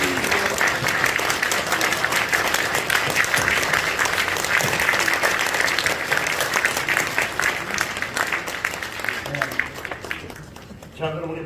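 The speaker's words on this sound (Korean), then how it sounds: "기립박수" A church assembly rises in a standing ovation, many hands clapping loudly and continuously for about ten seconds, a dense crowd of applause that thins out abruptly near the end.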